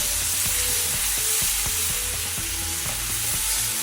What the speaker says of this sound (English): So you want to saute your shrimp for about a minute or so until it's like almost cooked or cooked